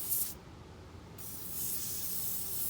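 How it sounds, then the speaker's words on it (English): Penetrating oil sprays from an aerosol can onto a car's front disc brake parts: a short sharp hissing burst, a brief pause, then a longer continuous hiss, close and clear with no voices. "So I'm gonna go ahead and spray some penetrating oil."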